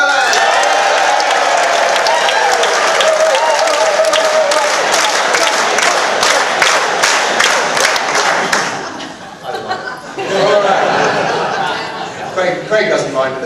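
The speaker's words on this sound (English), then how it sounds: "you're going to go wild for 2 seconds, and then you're going to chant and clap in time to some music that won't play" A large audience bursts into loud, dense applause and cheering for a speaker, clapping sustained for several seconds before thinning into scattered claps, whoops and chatter.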